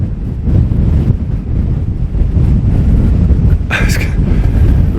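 Strong, steady wind roars and buffets the microphone on a cliff top at Bennan Head on the Isle of Arran, a loud continuous rumble with a brief brighter gust near the end.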